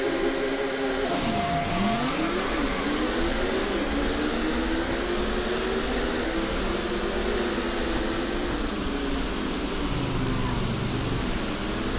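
Racing cars in the Sports Car GT simulator on a dry track at Donington Park, with engines droning steadily and shifting pitch as they rev and change gear, a dense continuous roar from several cars with no talk over it.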